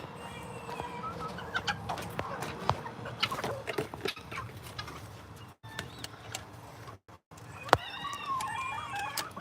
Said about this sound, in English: Hear the little rooster.